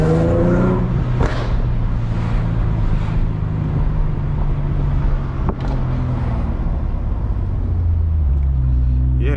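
Infiniti G37S with Motordyne exhaust and Z1 test pipes on a quick drive, a deep steady exhaust rumble with a few rev changes and road noise, while someone talks quietly over it.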